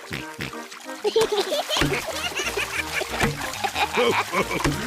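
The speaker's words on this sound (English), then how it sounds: "Very good, but try not to splash." Children splash and kick in a swimming pool during a lesson, choppy watery slaps under an adult's voice and other talk.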